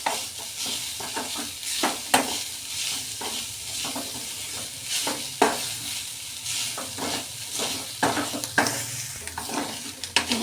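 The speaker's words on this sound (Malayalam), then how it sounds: "തേങ്ങ, പെരുംജീരകം, വെളുത്തുള്ളി, ചെറിയ ഉള്ളി, കറിവേപ്പില, ഒരു പട്ടയുടെ കഷ്ണം ഒക്കെ ചേർത്തത് നന്നായിട്ട് ഫ്രൈ ചെയ്തെടുക്കുകയാണ്" Coconut, fennel seeds, garlic, shallots, curry leaves and a piece of cinnamon frying in a pan for egg curry masala: a continuous close sizzle broken by repeated scraping stirs of a spoon, with no voices.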